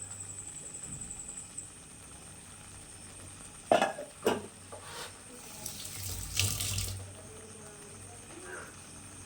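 Water pours from a tap into a cooking pan for boiling an egg tarka, a few short gushing bursts over quiet kitchen background, with no one speaking.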